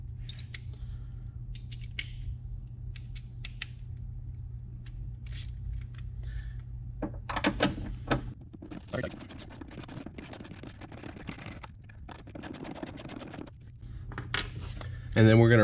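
A single 10mm nut is worked loose from a bracket on the firewall of a 2020-2025 Hyundai Palisade or Kia Telluride during an oil separator install. Close, scratchy metallic tool clicks and ratcheting come in bursts, with a steady hum running underneath.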